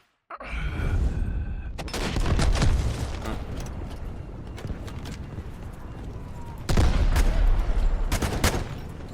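Rapid bursts of SCAR assault rifle fire in the Delta Force video game, loud and close, with a dense sustained volley early and another burst near the end over constant battlefield noise.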